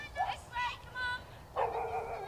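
Dogs belonging to several dog walkers bark and yip on Felton Common, an open common overlooking an airport, in a few short bursts at moderate distance, with a longer whining bark near the end.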